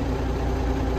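A hay-season farm equipment engine idles close by with a steady, heavy low-frequency rumble and vibration, alone and unbroken.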